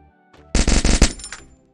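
A newly added gun fires in the Free Fire video game: one loud, rapid burst of about half a dozen punchy shots in quick succession, with a short tail after a brief click, heard alone.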